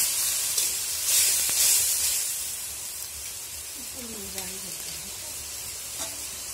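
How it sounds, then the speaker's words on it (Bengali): Turmeric, chili and coriander spice paste frying in a kadai gives a steady bright sizzle that swells and then settles, with occasional stirring scrapes and a voice heard briefly in the background. "এখন ভালো করে মশলাটা কষে নিবে।"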